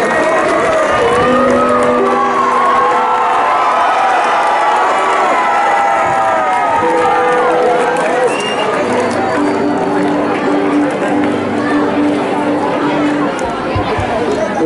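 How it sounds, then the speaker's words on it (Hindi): A school crowd at an International Workers Day event welcomes a worker with loud, sustained applause mixed with cheering and children's shouts, a dense wash of noise throughout with voices calling out. "जोरदार तालियों से स्वागत कीजिए जीवन भैया का"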